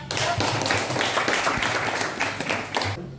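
Classroom of students clapping hands together at a junior high school, a dense, steady burst of applause lasting a few seconds, fairly loud and even.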